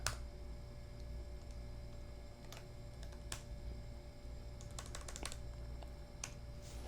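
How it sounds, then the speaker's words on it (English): Quick bursts of keystrokes on a computer keyboard, scattered taps and short clusters against a steady low hum, quiet and close with no voices. "I'm going to type in some text here"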